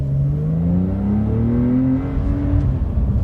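A Porsche 911 engine revs up with a rising, smooth tone for a few seconds, close and fairly loud, then settles back as the car drives on.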